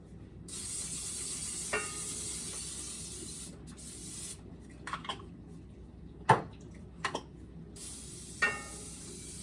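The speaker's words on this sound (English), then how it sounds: "we'll make sure we spray down our cast iron" A few short hissing bursts of aerosol oil spray onto a cast iron pan, quiet and intermittent against faint background noise, with no talking.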